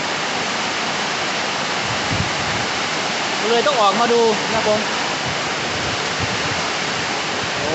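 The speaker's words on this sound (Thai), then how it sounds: "ฝนตกแรงครับผมทั้งฝนแลวทั้งลม" Steady, dense roar of heavy rain with gusting wind, loud and continuous throughout, while someone speaks briefly in the middle.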